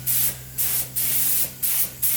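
An Eastwood spray gun lays primer on an E30 BMW M3 body, five short bursts of close, loud hissing spray in a steady rhythm, each trigger pull separated by brief pauses over a faint background hum.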